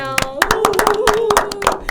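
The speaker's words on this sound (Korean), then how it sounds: "여러분 박수 한번 보내주세요." On a Korean live talk program, a studio audience claps before a live song, a run of sharp, close hand claps in an uneven rhythm, with a voice speaking over them.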